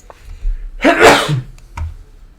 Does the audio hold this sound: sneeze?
yes